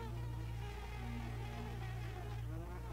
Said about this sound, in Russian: Мух мне тут не хватало.